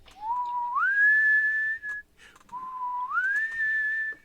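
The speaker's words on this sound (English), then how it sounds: "He's whistling the same tune. And so listen for that whistle." Someone whistles a two-phrase tune, each phrase a slow rising line held on a steady high note, clear and close with a brief pause between.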